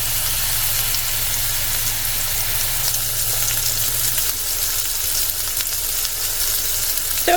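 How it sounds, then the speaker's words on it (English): Turkey apple sausages sizzle in a hot pan, a steady close crackling hiss that carries on alone, with a low hum beneath it and a faint knock at the very end. "Give these all a good flip. I'm going to continue to cook until they are done."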